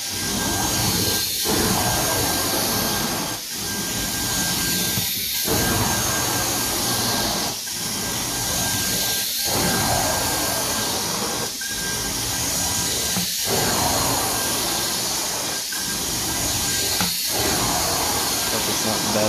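A carpet cleaning machine rinsing a carpet, giving a loud, steady hissing roar of spray and suction, broken by brief pauses every couple of seconds as the wand passes are repeated.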